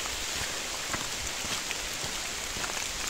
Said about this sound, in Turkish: Ormanlık ve yağmur.